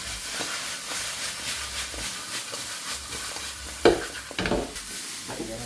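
Dried fish (tuyo) and tomatoes sizzle in a frying pan with a soft, steady hiss, broken by a few light clinks and stirring taps.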